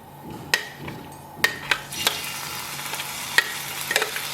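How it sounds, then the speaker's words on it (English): Noodle soup ingredients fry in hot oil in a pan, with a steady sizzle under sharp, irregular clacks of a utensil stirring and scraping against the pan. "we're just going to fry it for a couple minutes"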